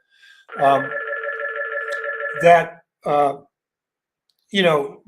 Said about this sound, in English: damn that phone, that landline. It's going to ring for a minute.